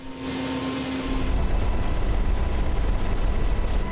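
A police helicopter flying over the Sur district of Diyarbakır gives a loud, steady rotor and engine roar heard from inside the aircraft, continuous and close, with no voices.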